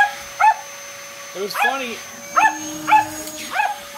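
A female dog barks excitedly indoors in a series of sharp yips and barks, spaced irregularly and close by, while a person speaks briefly between them.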